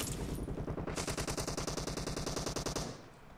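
Rapid automatic gunfire in PUBG Mobile, a steady burst of evenly spaced shots running loud and close for nearly three seconds before cutting off, with no talking.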